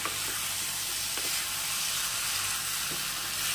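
Potato chunks frying in hot oil in a pan for a dal curry give a steady, dense sizzle, close and fairly loud, with a few faint crackles and no talking.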